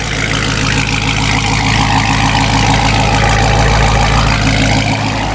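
A loud car engine idles steadily up close, a deep exhaust rumble holding constant throughout with no talking.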